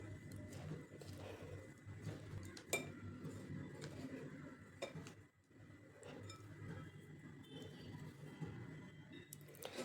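Gram flour batter stirred in a bowl for onion bhaji, with a quiet scraping and scattered light clinks of a utensil against the bowl, soft and close.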